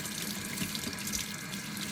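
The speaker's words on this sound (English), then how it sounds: "So wash them in warm water or water that's room temperature" Bitter gourds are washed under a running tap, producing a steady, even hiss and splatter of water in a sink at close range, with no talking.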